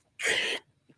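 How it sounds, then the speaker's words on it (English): One sharp sneeze, close and loud, a burst lasting under half a second, followed by a faint breath and near silence. "Oh man, sneezing today."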